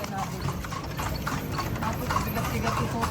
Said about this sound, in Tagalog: Kawawa yung kabayo kay Totoy, Loge.